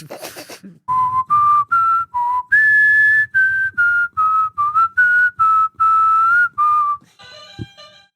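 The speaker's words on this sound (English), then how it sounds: "Forgive me, but I must now whistle this theme." A single person whistles the bridge theme from the Final Fantasy series as a quiz-show puzzle, a clear melody of sustained notes broken into short phrases with brief pauses, close and loud, ending with a faint noise.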